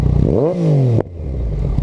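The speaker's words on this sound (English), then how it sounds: "This Akrapovic exhaust sounds crazy monster." A 2015 Yamaha FZ-09 fitted with an Akrapovic exhaust blips sharply upward, holds briefly, then drops off abruptly to a steady throbbing idle, loud and close, with no voices.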